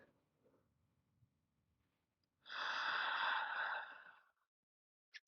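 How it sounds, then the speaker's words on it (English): One long audible exhale during a yoga session, a breathy rush of air lasting about two seconds, close and clear, with soft quiet breaths before it. "Take a couple of breaths here. And an exhale."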